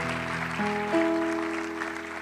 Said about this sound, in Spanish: Dale un aplauso al Señor precioso